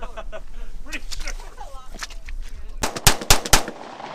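Gunfire from a street-side shooting session: scattered sharp shots early, then a tight burst of loud, close cracks near the end, with people talking in between.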